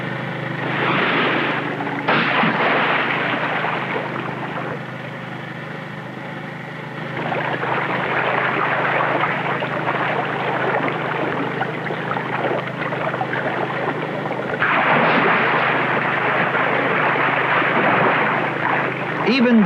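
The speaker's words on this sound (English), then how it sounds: "the sound of the flukes smashing the water surface with such awesome power reaches us clearly" Humpback whale flukes slap the sea surface miles ahead of a boat, heard as broad, heavy splashing washes that swell and fade over a steady low boat hum, with faint voices underneath.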